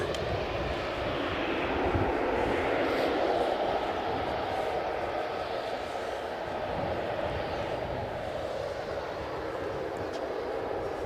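A fixed-wing airplane at Edinburgh Airport gives a steady, broad jet roar that holds level and loud throughout, with wind-like rumble beneath and no talk.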